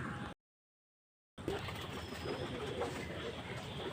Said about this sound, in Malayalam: പ്രാവ് ഇപ്പം പറഞ്ഞുകൊണ്ടിരിക്കുകയാണ്.